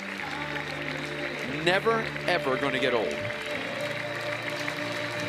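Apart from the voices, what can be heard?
ballpark crowd standing and applauding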